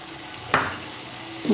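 Yogurt and cashew paste are stirred into masala frying in oil, and a spoon scrapes briefly against the pan over a low, steady sizzle. The stirring lasts only a moment and no one talks.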